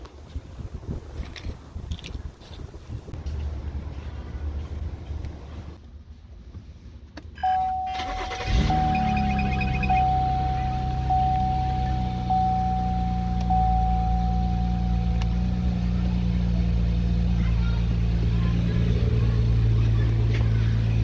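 Cadillac ATS parked for a headlight HID bulb replacement: a quiet stretch with faint handling noises, a chime dinging, then the engine cranks and catches and settles into a steady close idle.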